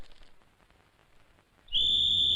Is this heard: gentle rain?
no